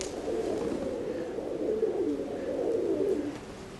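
Pigeons coo in a steady, low murmuring drone that carries on without a break from start to finish.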